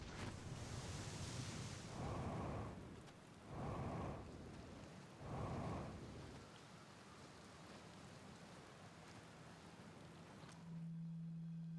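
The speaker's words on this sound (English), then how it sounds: "It's a good thing you never get bored of rain, huh?" Steady rain falls across an alien planet in the video game Outer Wilds, a broad hiss that swells in three heavier bursts early on, then settles into a softer patter with a low hum near the end.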